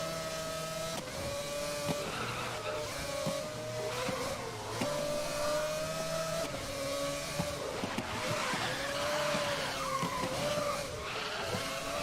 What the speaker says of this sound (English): the sliding, the drifting